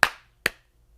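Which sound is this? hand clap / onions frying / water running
hand clap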